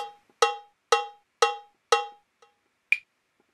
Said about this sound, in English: if the 1 fader is up, you will hear a click on all of the beats